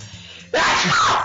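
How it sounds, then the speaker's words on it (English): One loud, explosive sneeze bursts out after a brief quiet lead-in and rings on for most of the moment, close to the microphone. "I had to sneeze that loud"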